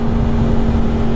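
A 2010 Yamaha R1 motorcycle is being ridden, its engine holding a loud, steady drone throughout a brief stretch with no talking.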